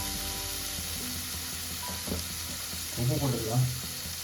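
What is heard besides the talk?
onions sautéing in a pan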